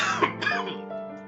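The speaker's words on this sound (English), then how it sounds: "because I've been coughing" A single short, throaty cough, close and clear, with a rasping throat-clearing quality that fades quickly.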